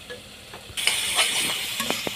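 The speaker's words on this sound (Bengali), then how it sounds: "5-7 মিনিট ধরে কষাতে হবে, না হলে একটু কাঁচা গন্ধ করতে পারে।" Spice masala for egg curry being stirred and fried in a pan, a soft sizzle that swells suddenly partway through, with scraping strokes of a spoon against the pan.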